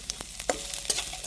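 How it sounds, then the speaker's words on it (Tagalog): Garlic and onion fry in hot oil, giving a steady close sizzle broken by a few sharp scraping clicks as a utensil stirs the pan, with no voices. "Lagyan natin ng bawang. Lagyan na rin natin ng sibuyas."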